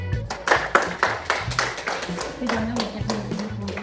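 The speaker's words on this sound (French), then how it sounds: "faut applaudir" A group claps their hands in a loose, rhythmic series of distinct claps at an adapted sports session before a boccia game, with voices mingling in the background.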